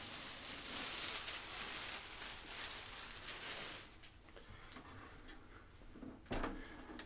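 A plastic bag is pulled off an NZXT S340 PC case as it is unboxed, making a continuous loud crinkling and rustling that thins out into scattered softer crackles and a final sharp rustle.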